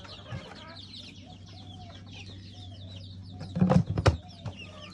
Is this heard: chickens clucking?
yes